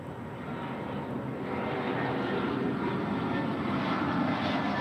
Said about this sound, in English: This is Delta Airlines 1721 from SFO.